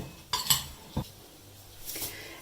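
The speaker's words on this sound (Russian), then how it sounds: "Все это нужно перемешать." Dates, raisins and pine nuts stirred together in a bowl: a few clinks and scrapes of a spoon against the dish, close and brief, with quiet gaps between them and no talk.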